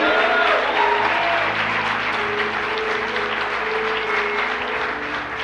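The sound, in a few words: congregation applause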